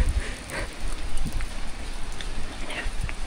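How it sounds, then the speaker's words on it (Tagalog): Heavy rain pours down in a dense, continuous hiss of drops, loud and close, with a few scattered louder splashes over about three seconds and no talking. "Kailangan natin bumalik kasi grabe yung ulan."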